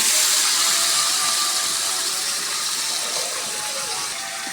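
Duck meat goes into a pan of browned fried onions, setting off a loud, steady sizzling hiss that fades slightly over a few seconds, with no voices.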